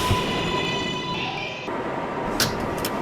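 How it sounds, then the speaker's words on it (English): New York subway 7 train at Grand Central, heard on the platform: a loud, steady rumble with a sustained whine, shifting midway as the train moves, then brief clanks and squeals near the end. "This is a Queens-bound 7 train."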